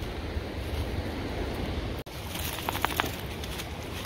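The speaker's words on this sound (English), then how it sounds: "Look how nice and clean this little brook is" A small clean brook flows steadily beside a 1927 stone culvert in spring, its broadband rushing wash constant and fairly near, with light wind noise over the microphone.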